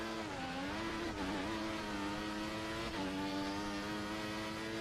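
A Caterham race car engine drones loudly and steadily during a race, holding a high buzzing pitch with a slight dip and shift partway through, close and continuous.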